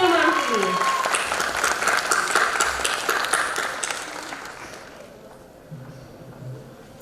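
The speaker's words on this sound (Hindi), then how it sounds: "तो एक बार जोरदार तालियां" Applause from the crowd at a school celebration with a prize-giving, a busy wash of clapping under an announcer's voice that thins out and fades toward a quieter end.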